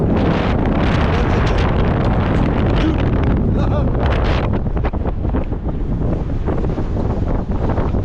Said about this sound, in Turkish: Çok fena bir rüzgar var.